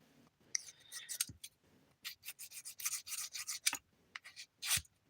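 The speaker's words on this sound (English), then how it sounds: "I'm trying to file it, but my file keeps moving on me" A nail file rubs across a dip powder manicure in quick, faint, irregular scraping strokes close by, broken by brief pauses and small knocks.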